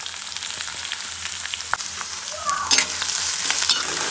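Chopped onions frying in hot oil with spluttering curry leaves, a loud close sizzle with stirring scrapes and a brief burst of crackling midway, and no one speaking.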